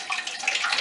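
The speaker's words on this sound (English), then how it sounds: "I'm going to pour those into my pan very carefully" Pear puree poured carefully from a bowl into a pan makes a soft, continuous wet pouring and splattering, steady and close for under a second, with no talk.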